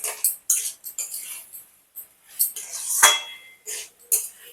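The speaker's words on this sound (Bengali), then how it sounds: "এগুলোকে সব ভালো করে নাড়াচাড়া করে নেব।" A spoon clinks and scrapes against a pan while stirring fried potatoes and jackfruit with spices, a series of short, uneven metallic strokes, close and fairly clear.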